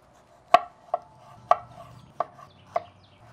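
A knife slices tomatoes, jalapenos and red onion on a cutting board for smoked salsa, giving five crisp, separate chopping knocks at an uneven pace with quiet gaps between them.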